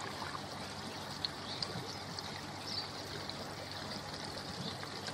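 Water splashing from the outlet of a newly built koi pond filter, a quiet continuous trickling wash with small irregular splashes, steady throughout and without speech.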